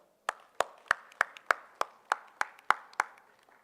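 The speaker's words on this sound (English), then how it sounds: "Can we have an applause for that?" Single pair of hands clapping in a steady, evenly spaced beat, about ten crisp claps, close and clear against quiet, at a conference stage ceremony.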